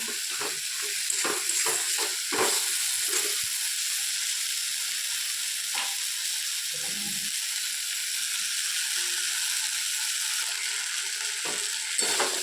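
Fish-head moong dal being stirred in a pan over steady frying sizzle and hiss, with a cluster of scraping stirs at the start and a few more scattered later, close by and without talk.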